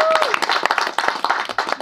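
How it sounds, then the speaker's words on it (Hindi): Audience clapping for the dance team at the promo launch of the reality show Nachega India, a short burst of loose, uneven claps close by, with a brief tonal whistle-like sound at the start. "सो नाचेगा इंडिया टीम के लिए तालियां हो जाएं यार."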